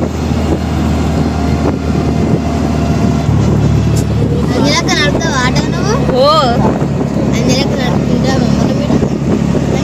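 Auto rickshaw engine droning steadily while riding, loud and continuous with rumbling wind buffeting, and people talking over it with brief high voices or horn-like tones midway.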